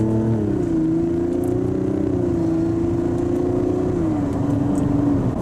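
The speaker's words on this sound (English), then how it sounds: "Look at this performance now." A 2024 Mazda CX-90 SUV accelerating on a test drive, its engine drone rising and holding steady from inside the cabin, with a gear shift near the end and no talk.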